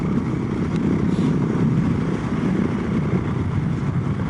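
A motorcycle, a Husqvarna 701 or KTM 790 Adventure, rides through sand in the Simpson Desert, its engine droning steadily and loud with rumbling wind noise throughout.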